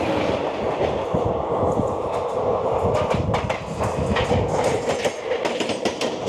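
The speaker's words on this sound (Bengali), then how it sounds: "চলে আসছে ট্রেন নাম্বার 130-31 হাওড়া" The Howrah-Jaynagar Express, train 13031, rolls past nearby with a loud continuous rumble and rhythmic clickety-clack of wheels over rail joints, with no voices heard.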